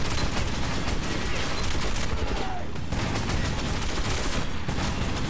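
Dense, continuous machine gun fire from a first-person shooter, Metro 2033 Redux, roaring loud and unbroken for several seconds with no pause in the barrage.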